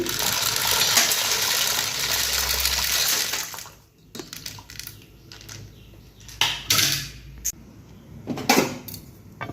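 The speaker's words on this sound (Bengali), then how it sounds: "জলটা ফুটে গেছে তো এর মধ্যে ম্যাকারনিগুলো দিয়ে দিচ্ছি" Dry macaroni tipped into a pot of boiling water for pasta: a steady rushing, bubbling wash for a few seconds, then quieter scattered clinks and taps as the pieces settle, close by with no talk.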